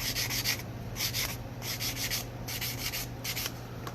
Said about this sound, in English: So I'm going to use these nail buffers.